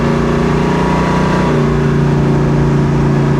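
A 1966 Chevy Impala V8 drones loud and steady at highway speed, holding around 3,500 rpm with a constant, close engine roar throughout.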